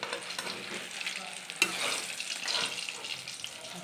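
Eggplant slices frying in a pan, giving a steady close sizzle with light stirring and scraping sounds and a sharp clink partway through, with no talk.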